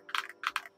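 Key clacks from a Monsgeek M3 TKL aluminum keyboard with Akko cream switches, heard as two close bursts of crisp, poppy strokes, near and alone.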